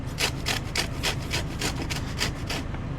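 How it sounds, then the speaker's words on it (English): Lemon peel scraped against an old, coarse-holed grater in a kitchen, giving a steady run of about ten close rhythmic rasping strokes with no talking. "I'm going to grate my lemon"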